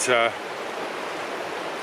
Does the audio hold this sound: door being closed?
no